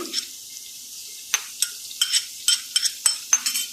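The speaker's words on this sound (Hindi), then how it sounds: "अब हम अपना लहसुन शामिल करने लगे" Garlic sizzles as it is added to a hot pan while cooking black chickpea pulao, with soft frying hiss and a series of sharp stirring clicks and scrapes spread through the moment.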